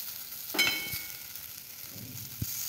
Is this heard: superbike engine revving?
no